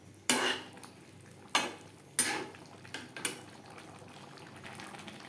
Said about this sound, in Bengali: ঘি গরম মশলা এঁচড়ের সাথে বেশ ভালো করে মিক্স করে দেব।